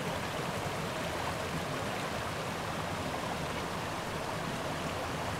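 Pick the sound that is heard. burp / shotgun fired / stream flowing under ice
stream flowing under ice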